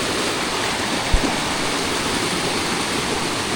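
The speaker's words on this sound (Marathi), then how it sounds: "झिरपीला केवढं पाणी आहे बघा." Water from heavy rain rushes steadily through a small rivulet feeding a stream, a constant close hiss and gurgle with one brief low thump partway through and no voices.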